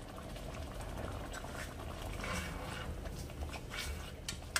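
Chicken gravy for green chili chicken bubbles in a pan as it reduces, a low continuous burbling simmer with soft popping blips, fairly quiet and close, ending with a small knock.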